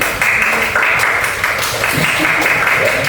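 A classroom of students claps for a presenting group, a brief burst of loose, uneven hand claps close by, filling the short moment with little else heard.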